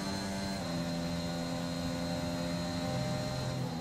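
A failing race car engine in the F1 2021 racing game drones steadily and loudly, a continuous whining hum with sustained tonal lines that barely changes over a few seconds.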